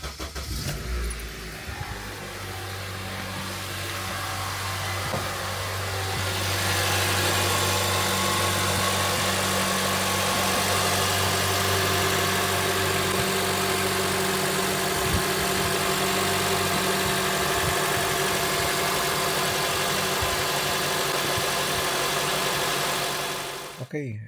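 A 2007 Honda CR-V engine cranks and starts, then settles into a steady, close idle hum with low vibration lasting about twenty seconds before cutting off.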